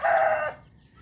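A hungry hen gives a loud, close vocal call lasting about half a second, followed by quiet background.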